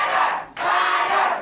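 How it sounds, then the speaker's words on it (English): A wrestling crowd at a 1988 NWA television event cheers and roars loudly and continuously, with a brief dip before the noise swells again. "listen to the crowd"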